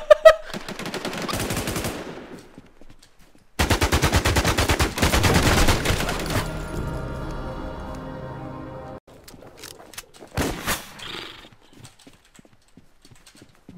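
Gunshots in the Infestation The NewZ video game come as sharp bursts of rapid automatic fire and separate loud cracks, broken by short silent gaps, with rattling clatter between volleys.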